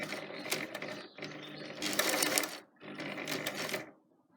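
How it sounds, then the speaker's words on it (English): A sewing machine stitches a fabric bag handle strap in three steady, rapid bursts, with short pauses between them as the fabric is turned. The last burst stops cleanly into near silence. "and then just carefully sewing"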